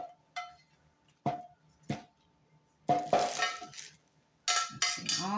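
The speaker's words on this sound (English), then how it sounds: "I'm going to put the sausage in here." Browned sausage being put into a pot, heard as a few separate metallic clinks and knocks of a utensil against the cookware, spaced out over a few seconds with quiet gaps between.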